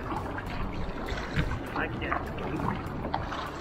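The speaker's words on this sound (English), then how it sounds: "It's paddling pretty true. Not really turning much, going pretty straight." A Hobie Passport kayak glides along on open water with soft, irregular splashes and water trickling past the hull, mixed with faint wind noise and a low murmur of voice in the background.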